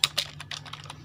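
Keys tapped on a computer keyboard while building a login app in Kodular, a quick run of about eight close, crisp clicks with uneven rhythm and a steady low hum beneath, no voice.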